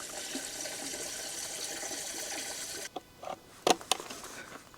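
Water runs into a 42 litre nutrient container for a small salad table, a steady splashing fill that stops partway, followed by a few scattered knocks and splashes.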